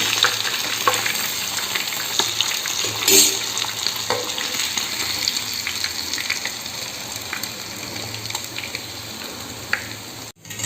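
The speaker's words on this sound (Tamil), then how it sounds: "இப்போ நமக்கு நல்ல மொறுன்னு ஃப்ரை ஆயிடுச்சு" Masala-coated fish pieces fry crisply in a pan of hot oil, giving a continuous dense sizzle with scattered pops and crackles, loud and close throughout, then ending in a sudden cut near the close.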